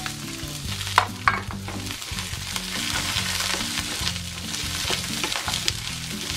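Sweet peas and carrots tossed into a wok with oil and fragrant garlic, a loud close sizzle that swells as they are stir-fried, with a few spatula knocks against the metal at the start.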